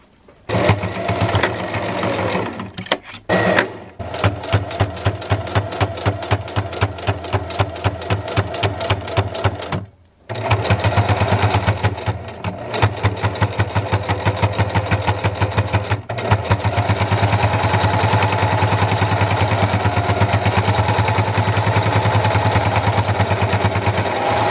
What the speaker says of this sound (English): I'm just going to use my sewing machine now to sew both of the ends of the fabric here